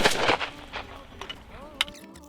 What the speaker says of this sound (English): Shot number one with our powder.